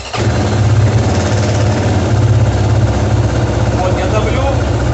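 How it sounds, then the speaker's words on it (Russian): A Kovi Pro KT motorcycle with a ZS177MM engine that has a knocking fault from the chain tensioner fires up almost immediately and settles into a loud, close, steady idle with a rough, pulsing mechanical chatter. "давить на него и заведу мотор."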